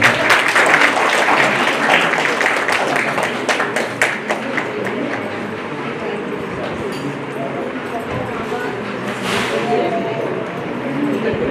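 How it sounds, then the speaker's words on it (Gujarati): An audience at a Bhagwat Katha religious discourse breaks into loud, sustained applause honoring a doctor, the dense clapping dense at first and gradually thinning while a voice speaks over it. "તાળીઓથી વધાવી દઈએ ડોક્ટર સાહેબને."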